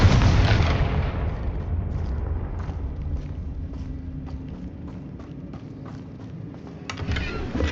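A Confringo fire spell in the Hogwarts Legacy video game erupts in a heavy, loud blast at the start, then fades into a quieter stretch of faint ticks and rustles before a smaller burst near the end.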